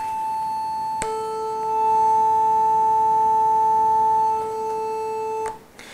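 Two steady pure tones at 440 and 880, an octave apart, sound together as a clean, sustained electronic pair for about four and a half seconds before stopping abruptly.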